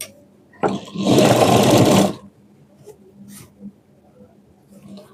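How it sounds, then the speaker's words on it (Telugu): Sewing machine double-stitching lining fabric for a knee-length frock, one loud close whirring run of about a second, then quiet room noise with faint voice sounds. "లైనింగ్ ఫ్యాబ్రిక్ కూడా డబల్ స్టిచ్ వేసుకుంటున్నాను"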